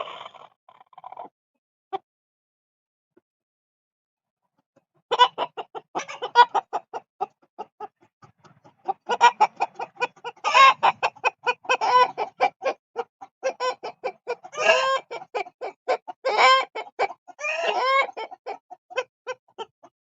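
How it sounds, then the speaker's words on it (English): A silkie rooster clucks close by in a run of soft, rapid, chattering clucks and grumbles, after a few scattered quiet sounds at the start, with no talking. "He's a silky rooster."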